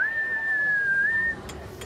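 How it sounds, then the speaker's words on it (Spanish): A person whistles a single sustained tune out at sea to call a whale, clear and steady for about a second and a half before stopping, with a faint bump of background noise afterward. "mi mismo silbido"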